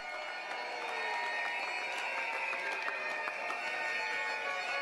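An audience at a People's Action Movement convention applauds, a steady wash of many hands clapping that holds evenly across the whole stretch at a moderate distance.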